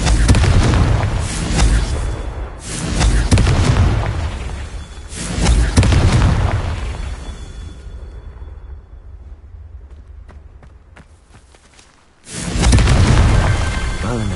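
Booming fire-spell blasts of Confringo in Hogwarts Legacy, several heavy explosive bursts close together, then a quieter stretch before another loud blast near the end.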